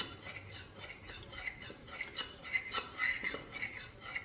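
Cornstarch dissolved in milk being stirred in a pan, a quiet run of light rhythmic scrapes and clinks of a utensil against the pan, close and faint.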